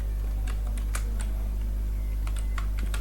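Computer keyboard being typed on in short bursts of close keystrokes, with scattered clicks over a constant low electrical hum.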